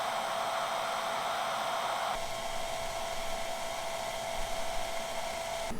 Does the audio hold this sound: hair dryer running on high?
yes